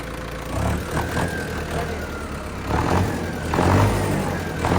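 A Mahindra Arjun Novo 4x4 tractor engine runs close by after hydraulic repair work, a steady idle with a couple of swells in revs and no talk.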